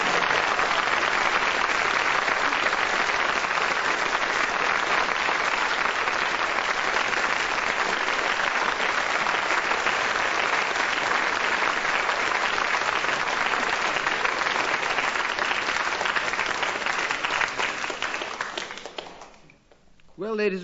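Sustained applause from a studio audience at a radio panel game, a dense even wash of clapping holding steady for many seconds before tapering off near the end.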